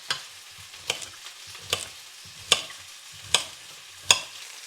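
Vegetables frying and browning in a pan at a lakeside wild camp, with soft steady sizzling under sharp periodic scraping knocks as a utensil stirs them, about six strokes at an even pace.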